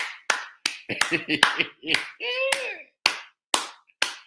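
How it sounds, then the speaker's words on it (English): Single person's hands clapping in sharp, separate claps with uneven spacing, close and loud, with brief talk breaking in around the middle. "I'm gonna clap you on that."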